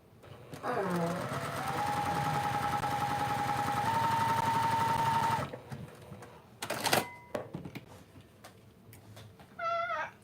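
A sewing machine stitches quilt fabric in one steady, close run of several seconds before stopping, followed by scattered handling clicks and a brief high meow-like cry near the end.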